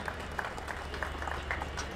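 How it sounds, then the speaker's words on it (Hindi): An audience at a bodybuilding competition applauds the finalists with steady, moderately loud clapping from a crowd, a continuous patter of hands with a low background hum. "एक बार जोरदार ताली बजा के इन बच्चों का हौसला अफजाई करें"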